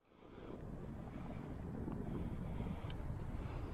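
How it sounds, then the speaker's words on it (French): Steady wind blowing across the open shore of a high mountain lake near electricity pylons in the Alps, a continuous loud rushing roar buffeting the microphone, building in the first half-second and then holding throughout. "il commence à avoir du vent"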